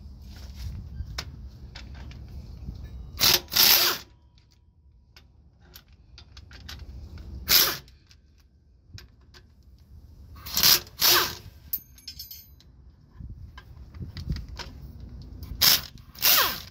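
A socket wrench with a 3/8 socket loosens four bolts on a semi trailer's S-cam brake assembly, heard as bursts of sharp ratcheting clicks between quieter metallic handling noises, close by, no talking.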